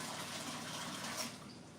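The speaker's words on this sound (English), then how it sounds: "I just pour water in." Well water is poured in with a steady, hissing rush of liquid that runs continuously and fairly close, easing slightly near the end, with no voices.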